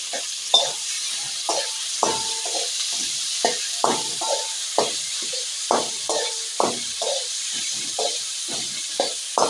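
Onion and tomato frying with salt in a pan give a steady close sizzle, broken by a regular series of sharp spoon taps and scrapes as the mixture is stirred, with no voices.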